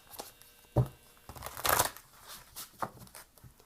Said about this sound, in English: I'm having such a hard time shuffling these cards.